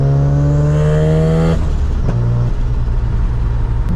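A big-turbo Mazda RX-7 FD rotary drones loudly at close range, then the revs drop sharply into a rough, crackling exhaust burble with a few pops under the steady engine roar.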